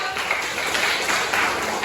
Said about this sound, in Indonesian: Oke, silahkan duduk, kasih tepuk tangan dong.